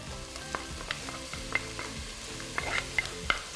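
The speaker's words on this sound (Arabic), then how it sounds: "وهضيف الفلفل الأحمر، بس هقلبهم شوية عشان يتسكر، أو اللي هو البصل يدبل سنة بسيطة" Red bell pepper and onion sauté in a pan with a quiet, steady sizzle and repeated light clicks and scrapes of stirring, close and without talk.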